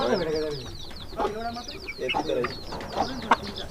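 A pair of silkie chickens cluck and chirp in quick, close bursts, with soft bird calls and a voice mixed in.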